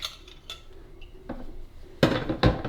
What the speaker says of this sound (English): And now we're going to be taking out the drip tray.